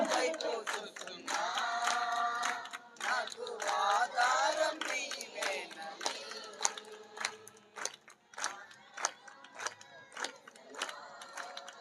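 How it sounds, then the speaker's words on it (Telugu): An audience claps along to a devotional song at a gathering with sharp, rhythmic, unison claps. Singing voices and music fill the first half, and the claps stand out more clearly later. "అందరం పాడదాం, చప్పట్లు చప్పట్లు చప్పట్లు."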